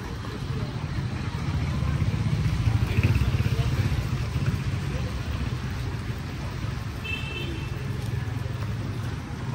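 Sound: rain falling on a street in Hanoi

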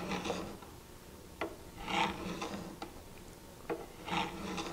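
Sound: burnishing tool drawn across card scraper edge

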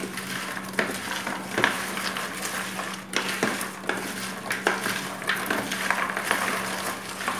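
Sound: stirring popcorn with milk chocolate in a pan

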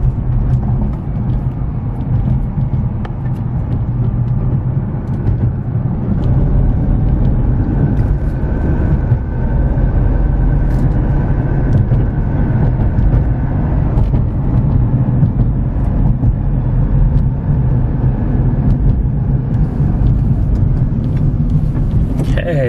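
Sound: car driving fast down the street

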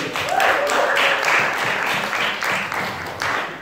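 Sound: audience applause for a performer

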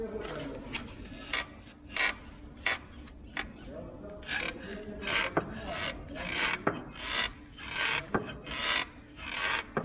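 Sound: car suspension control arm creaking

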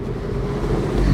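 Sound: turbo noises from F56 MINI Cooper 1.5 engine

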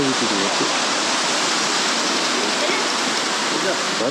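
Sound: Elephant Falls waterfall in Meghalaya

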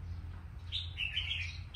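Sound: birds chirping

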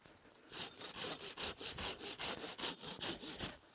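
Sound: hand saw cutting an acacia tree

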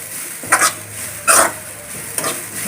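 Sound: dry roasting coconut for chicken curry without oil, stirring

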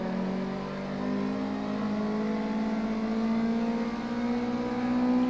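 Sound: Mazda MX-5 engine revving in a truck racing video game

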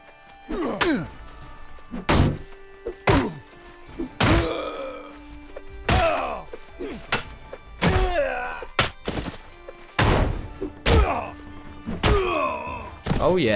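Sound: melee sword and shield fighting in a video game

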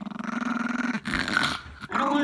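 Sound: puppy growling

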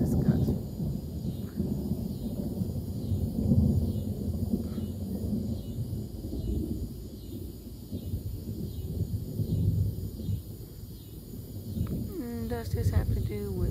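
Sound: thunder from a lightning strike

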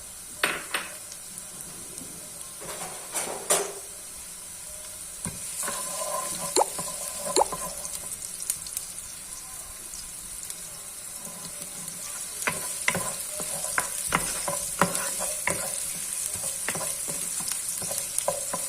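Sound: onions frying in hot oil

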